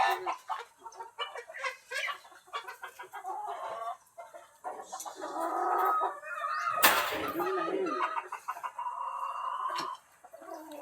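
Chickens cluck and squawk in bursts, with a rooster-like cry cutting in midway, amid farmyard bustle and a few voices.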